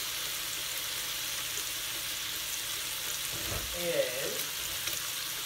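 Liver cooking down in a frying pan, a steady, even sizzle and crackle throughout, with a short spoken word and a brief stir or clatter near the end.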